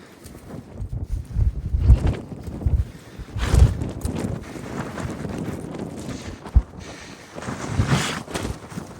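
Horses walk outdoors while cattle are being gathered, their hooves clopping unevenly in soft thuds against wind noise and the light creak of riding gear.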